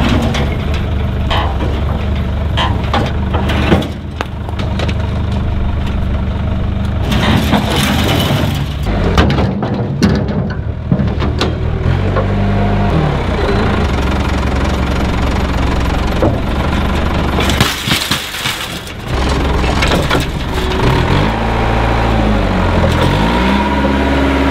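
An old machine's engine runs steadily and loudly throughout, a continuous low rumble with some knocking and rattling, briefly dipping in level a few times.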